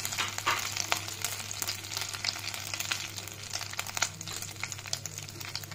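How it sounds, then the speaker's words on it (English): Cumin seeds sizzle and crackle steadily in hot butter in a kadai, a dense, continuous frying hiss with scattered sharper pops, close and moderately loud throughout with no talking. "Take a kadai, add butter. First we will add cumin seeds."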